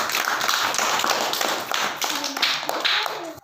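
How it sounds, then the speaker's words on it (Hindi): A group of children in a class 1 and 2 classroom clap their hands together in a steady burst of lively, overlapping claps that rises and settles, with no talking over it. "बहुत बढ़िया, ताली बजाओ उसके लिए।"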